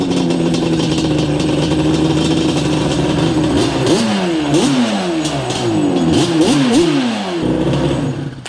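A Yamaha Banshee ATV engine idles loudly up close, then revs hard in repeated rising and falling bursts as the tires spin.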